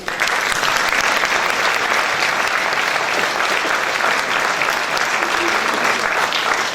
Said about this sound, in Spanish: un aplauso para elas